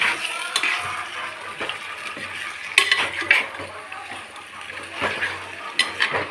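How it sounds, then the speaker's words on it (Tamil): Chicken pieces being stirred in a pot to start a gravy: scraping spoon strokes and metallic clatter against the pot, with sizzling underneath, repeated at an uneven rhythm close by. "நல்லா மிக்ஸ் பண்ணிக்கிடலாம்."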